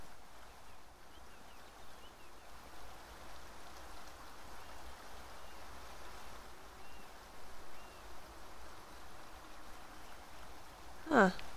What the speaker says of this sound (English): Is that a waterfall?